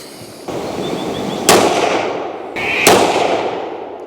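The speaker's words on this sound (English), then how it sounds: "So these are the first rounds out of this new barrel." Two sharp, loud rifle shots crack from a Tikka T3x 22-250 fitted with a new 26-inch barrel, spaced about a second and a half apart, each trailing off in a long outdoor echo over steady background noise.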